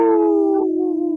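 A wolf lets out a sustained, steady howl that holds its pitch and slides gently lower, close and fairly loud, with no talk over it.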